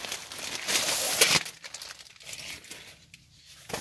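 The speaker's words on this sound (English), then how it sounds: "Little zip-up bag." A little zip-up bag holding a work jacket is handled close up, giving a loud, rough crinkling rustle for over a second, then softer intermittent rustles and small crackles.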